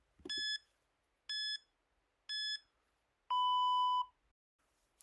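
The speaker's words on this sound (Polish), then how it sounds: "równocześnie i zegar będzie Wam pikać" A workout interval timer gives three short electronic beeps about a second apart, then one longer, lower beep, clear and alone in a quiet room.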